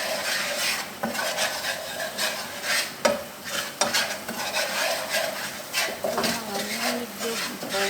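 Garlic sautéing in butter for shrimp, stirred with a utensil in a pan: a steady close sizzle with repeated scraping and clinking strokes, and light talking underneath.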